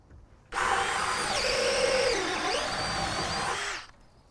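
Dewalt Atomic DCD708B brushless 20V drill boring into wood, one continuous close, loud whine of about three seconds that dips in pitch under load and then stops.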